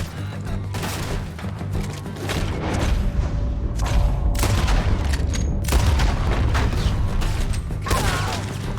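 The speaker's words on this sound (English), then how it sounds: "Just shoot her! I don't care what she is, shoot her!" Gunfire rings out in a Red Dead Redemption 2 shootout, with sharp repeated shots and booming impacts over a steady loud game soundscape, with no talk audible.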